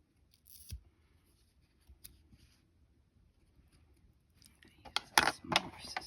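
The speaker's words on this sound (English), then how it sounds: "Smaller scissors for fine, yeah, smaller scissors for the finer details." Small scissors snip several times in quick succession while fine details of mini rosettes are cut, the crisp clicks growing louder toward the end after quieter handling sounds.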